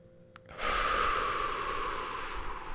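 A person mimicking someone holding a breath and then letting it out in one very big exhale: a quiet pause with a small click, then a long, loud breathy rush that carries on steadily to the end.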